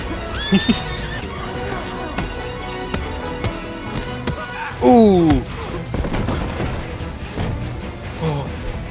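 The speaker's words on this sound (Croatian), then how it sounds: "A, ubio sam ti konja." A horse in Red Dead Redemption 2 whinnies once, short and sharp, over a steady bed of game noise, scattered thuds and impacts.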